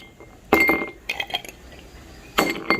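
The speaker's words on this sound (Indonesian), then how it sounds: "Saya akan ambil es batu dulu." Ice cubes drop into a glass while an iced chocolate coffee is being made, giving three separate bursts of sharp clinks and rattles spaced across a few seconds, close and moderately loud.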